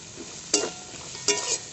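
Soaked raw chickpeas frying with lightly fried onion and tomato in a pan, a gentle sizzle broken by two brief stirring scrapes, close and fairly quiet with no voices.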